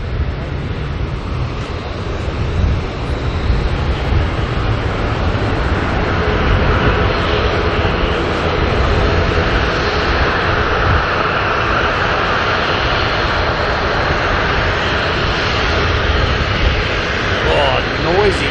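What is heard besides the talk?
ATR turboprop aircraft propeller noise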